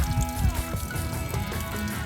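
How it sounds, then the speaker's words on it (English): Water draining out of the fresh water tank of a Geo Pro 19FBS camper, a steady trickling and gurgling pour that carries on alone without pause. "we'll let that drain completely because obviously we don't want stagnant water sitting in that tank"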